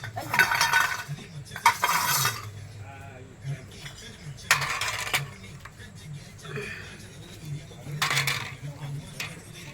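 Tempering for khaman, the vaghar, sizzles softly in a pan while a spoon stirs and scrapes against the metal, with a few louder bursts of clatter spaced through the steady frying.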